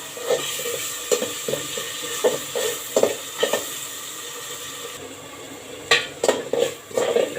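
Spice paste sizzles in a pan for kochu ghati (taro stem dish) while a spoon scrapes and stirs it in repeated bursts, with metal clinks against the pan over a steady frying hiss.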